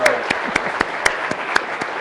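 Applause for Nolan Bushnell after a talk on video game history: a short, steady run of sharp hand claps roughly four per second, fairly close, with a faint tonal voice or whistle at the start.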